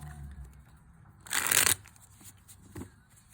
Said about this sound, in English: I'm going to shuffle this deck just a few more times